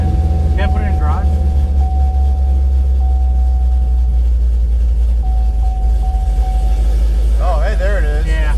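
A car with a transmission problem sits idling in cold weather, a steady low engine rumble with a faint whine that runs throughout while people talk over it.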